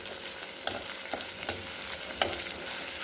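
Garlic, onion and curry leaves sauté in hot oil, a steady bright sizzle close by with a few sharp spatter pops and light stirring knocks through the short stretch, with no voices.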